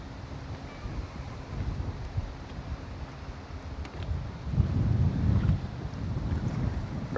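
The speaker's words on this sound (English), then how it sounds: "that wind is moving" Wind on open water while bass fishing from a boat: a constant low rumble of gusts buffeting the microphone, with waves lapping, swelling louder midway, no voices.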